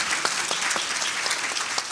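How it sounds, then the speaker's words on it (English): A lunch audience at a chamber of commerce health care forum applauds the panel, a continuous, even roar of many hands clapping at moderate distance, with no talking. "let's give our panel another round of applause"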